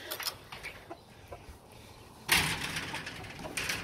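Backyard chickens cluck in short, scattered bursts at moderate distance, with a louder clattering knock partway through, like a gate or door moving.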